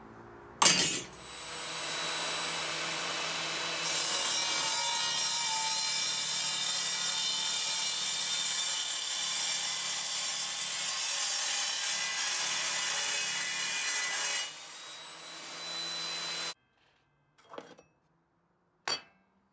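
An Evolution Rage 5S saw makes a miter cut through metal, a loud continuous whining, grinding roar that runs for about fourteen seconds and then winds down, followed by a few sharp clanks of handled material.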